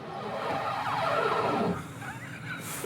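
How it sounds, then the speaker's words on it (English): The tyres of a modified car catch and rub on its bodywork while it is driven, making a loud, wavering squeal and groan for about two seconds. The noise then drops back to steadier driving noise. "The sound of my tyres catching on the bodywork."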